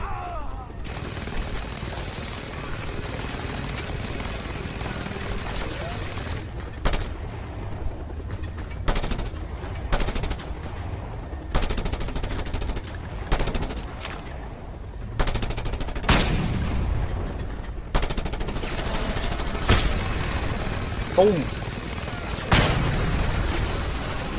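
Gunfire rings out in the video game Just Cause 2, with repeated sharp shots and bursts scattered across a dense background of game noise, some louder and closer, others more distant.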